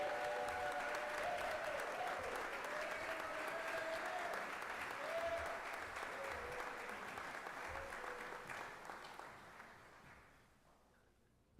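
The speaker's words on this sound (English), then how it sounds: "Please give a round of applause for Brother Ed Sheehy" An audience at a campus welcome event claps in sustained, full applause that holds strong for several seconds, then gradually thins out and fades toward near silence.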